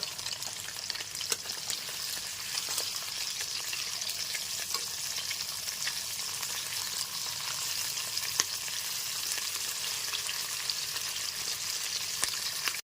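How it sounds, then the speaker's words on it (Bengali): Pieces of katla fish fry in oil as they are turned, giving a steady, moderately loud crackling sizzle with occasional light spatula taps throughout. "মাছের পিসগুলোকে উল্টে পাল্টে খুব ভালো মতো ভেজে নেব"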